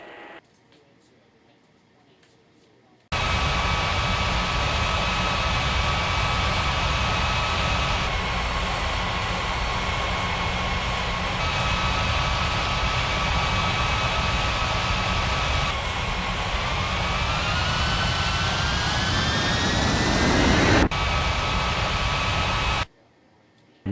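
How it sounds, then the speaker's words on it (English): A DHL jet airliner takes off from runway 32 left, a loud steady roar of engines with broadband rushing noise that swells in pitch and intensity, then cuts off abruptly near the end. "DHL 41901, cleared for takeoff runway 32,"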